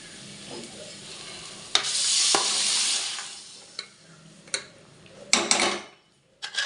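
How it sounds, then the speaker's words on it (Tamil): Cooked country chicken being stirred in a pan for a village-style curry, with scraping strokes, a stretch of sizzling hiss and several sharp spoon clicks against the pan, close and clear with no talking. "வேக வச்ச நாட்டுக்கோழியை போட்டு கிளறிட்டோம்."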